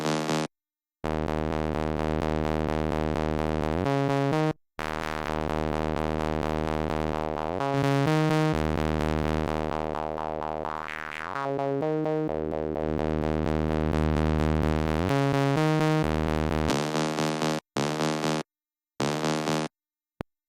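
A buzzy, harmonically rich synth in Fabrik, with software distortion, plays sustained distorted notes in steady phrases, with brief gaps between them and a sweeping tone change midway.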